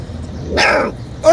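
A puppy gives a short, sharp bark at close range, followed by a quick higher yip, with faint background noise around it.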